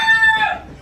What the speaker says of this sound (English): the neighbor's damn rooster is in here